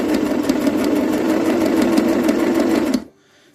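A sewing machine stitches elastic onto a pocket for a 1950s suitcase restoration at a longer stitch length, running steadily and loudly for about three seconds before stopping abruptly.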